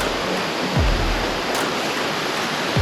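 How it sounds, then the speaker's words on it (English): Creek water swollen by several inches of recent rain roars as a loud, steady broadband rush close by, with a few brief low thumps near the bank and no voices. "Water's roaring. That's what I like."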